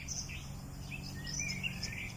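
Faint birdsong from several garden birds perched in trees, short chirps and whistled calls scattered over a low background hum.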